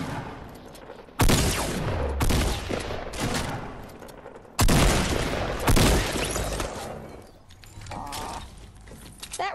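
Fortnite gunfire erupts in loud bursts of rapid shots and booms during a duos match, with two heavy volleys and scattered smaller shots between them.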